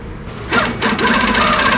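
Sewing machine with a TruStitch stitch regulator stitching fabric, starting after a brief quiet moment into a close, loud, rapid mechanical rattle of needle strokes that runs on steadily.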